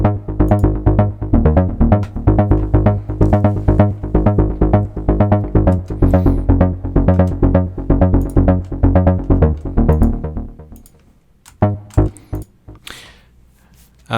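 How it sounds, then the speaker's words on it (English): A deep, punchy bass line processed with two Ableton echo plugins plays in a steady repeating rhythm with a slight echoing tail, then drops away near the end, leaving sparse softer hits. "With two echo plugins, it sounds like this."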